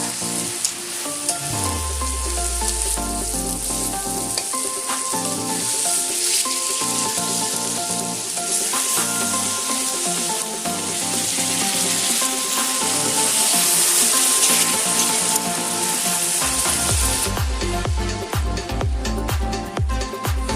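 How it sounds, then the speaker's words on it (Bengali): Marinated chicken for chicken biryani drops into a hot pan and sizzles loudly and steadily, with occasional stirring clatter and bright crackling frying throughout. "ম্যারিনেট করা চিকেনটা দিয়ে দিচ্ছি।"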